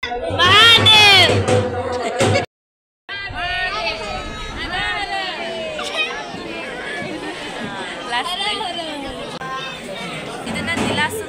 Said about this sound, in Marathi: एवढी गर्दी आहे आज